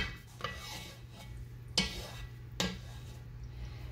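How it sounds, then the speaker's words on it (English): A spoon stirs macaroni in a metal pot, giving quiet scraping with a few distinct clinks against the side, soft and close over a low steady hum. "Stir it around."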